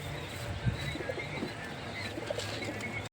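Pigeons cooing softly in a backyard loft, low murmuring calls repeating at a moderate distance over steady outdoor ambience, with occasional faint chirps and no talking.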